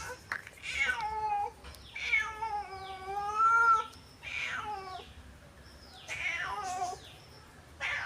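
A cat meows repeatedly indoors, several drawn-out, wavering cries spaced a second or two apart, fairly close and clear with little else around.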